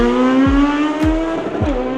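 A cheap supercar's engine revs hard and close, its tone climbing steadily with a few sharp drops as it shifts, loud and alone.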